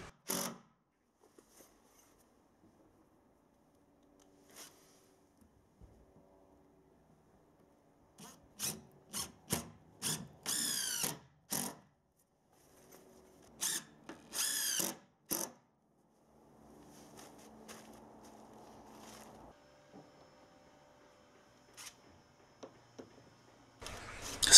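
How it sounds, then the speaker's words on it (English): An impact driver sinks 65 mm decking screws into OSB sheathing boards on a shed wall, giving several short bursts of loud rattling hammering separated by quiet pauses, with softer handling noises between. "I've got the impact driver out, and it's absolutely perfect for a job like this."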